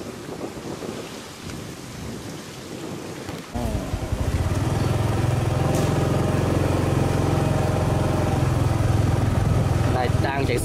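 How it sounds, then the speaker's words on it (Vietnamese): A motorbike engine hums steadily while riding through a fishing port, low and constant after a few seconds, under heavy wind rush and road noise, with a voice talking at the start. "Đang chạy xe nha các bạn"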